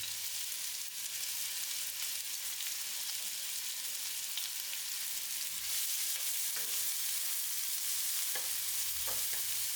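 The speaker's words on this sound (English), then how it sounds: "While the onion is frying," Diced onion sautéing gently in oil in a pan for chicken risotto, giving a steady soft hiss and sizzle with occasional stirring clicks, close and continuous without talk.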